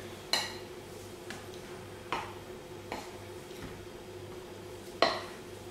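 A utensil stirs milk and water for croissant dough in a bowl, giving a few sparse, light clinks against the side over a quiet background.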